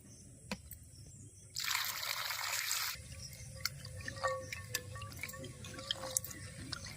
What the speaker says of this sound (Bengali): জল পাল্টে পাল্টে দুবার করমচা ধুয়ে নেবে